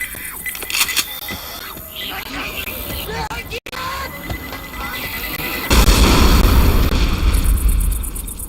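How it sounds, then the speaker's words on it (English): A pipe bomb goes off in Left 4 Dead 2, a loud blast that gives way to a long, heavy rumble. Someone talks over the earlier part, with scattered game sounds before the explosion. "Pipe bomb all the way."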